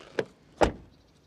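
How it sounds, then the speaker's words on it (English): A VW Tayron SUV door shutting with a solid thud: a light latch click, then one heavy, close, loud slam that decays quickly, with no talk. "Then the door closing sound."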